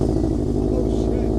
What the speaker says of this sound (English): did we figure out what exhaust this was yet?